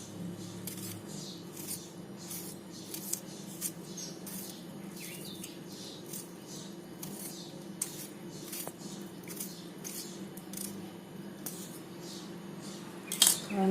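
A tomato being cut with a knife in a home kitchen, giving a steady run of faint, regular chopping taps over a quiet background hum, without talk.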